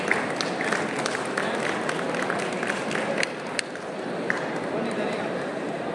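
Sustained applause from a book fair audience, many hands clapping in a thick, unbroken wash with a few sharper claps standing out, steady throughout, with crowd murmur underneath.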